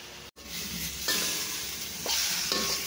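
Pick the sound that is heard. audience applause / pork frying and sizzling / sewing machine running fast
pork frying and sizzling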